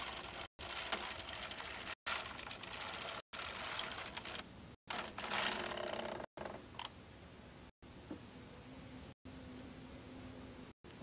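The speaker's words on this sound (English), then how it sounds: "As you knit the row, let the yarn run through your fingers." A Bond Elite knitting machine carriage is pushed across a row, giving a soft, steady mechanical whir and rattle that breaks off at regular short pauses, faint and close with no voices.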